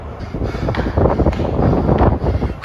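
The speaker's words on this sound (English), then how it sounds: "A lot of wind." Wind gusts roar at the top of an underground spiral staircase, loud buffeting bursts rising and falling across the mic, with close breathy movement.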